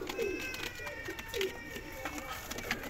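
Three pairs of teddy pigeons cooing softly in a loft, repeated low throaty coos over a faint background murmur with some talk nearby.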